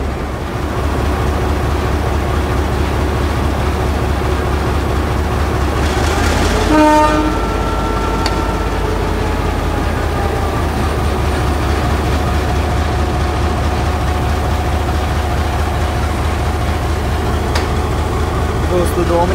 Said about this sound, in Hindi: फाइनल विसल होगा ट्रेन मूव होना शुरू हो जाएगी।